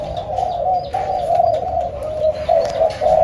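A bird gives repeated soft cooing calls, a steady, fairly close series with slight pauses, over low background noise.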